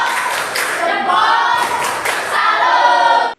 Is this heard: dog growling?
no